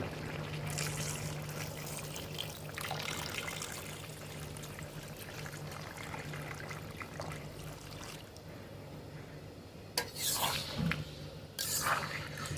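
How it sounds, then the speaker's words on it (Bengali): Water poured into a pot of mutton curry cooked with potatoes, a soft continuous trickle and splash under low kitchen background, with louder bursts of pouring near the end. "এবারে দিয়ে দিচ্ছি গ্রেভির জন্য পর্যাপ্ত পরিমাণে জল।"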